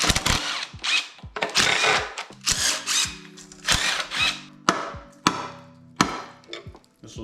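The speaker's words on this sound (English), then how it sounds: "let's grab us a 10 mil socket, and I guess let's start pulling this oil pan off" Socket wrench removing the oil pan bolts on an upside-down Nissan 300ZX: repeated bursts of ratcheting and metallic clicks, close and fairly loud, with short pauses and sharp knocks between bolts.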